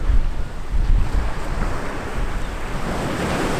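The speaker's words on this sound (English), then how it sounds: "a shot of the water swirling around these rocks here in the foreground" Sea water surges and swirls around rocks on the rugged Welsh coastline, a steady broadband wash of surf close by, mixed with wind buffeting the microphone, with no voices.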